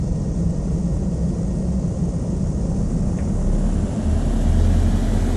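Light aircraft engine held at full throttle for takeoff in Flight Sim World, a steady, loud, droning roar that swells slightly toward the end.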